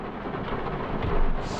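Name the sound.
thunder from a storm directly overhead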